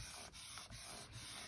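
A rubbing tool is drawn over a stamp laid on vellum, giving a faint, close, dry scraping that repeats in short strokes.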